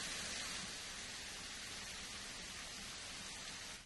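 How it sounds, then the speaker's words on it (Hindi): Heavy monsoon rain falling across the Bastar region of Chhattisgarh, a dense, steady broadband hiss that stays loud and unbroken throughout, with no voices. "समूचे बस्तर में कहीं मध्यम तो कहीं तेज बारिश हो रही है।"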